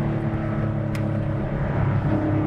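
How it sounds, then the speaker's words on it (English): Porsche 964 restomod with valved exhaust set to loud mode, a steady droning engine and exhaust roar heard from inside the car, dense and continuous without clear revs or pauses. "We have this thing on loud exhaust"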